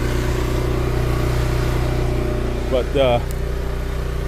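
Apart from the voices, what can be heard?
several engines running in yard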